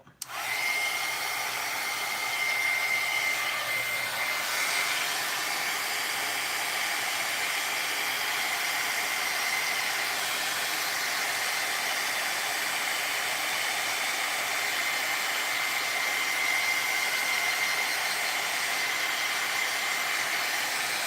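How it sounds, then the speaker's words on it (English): Heat gun blowing hot air, switched on with a click and then running alone as a loud, steady, unbroken hiss and whoosh throughout. "I'm going to turn the heat gun back on again"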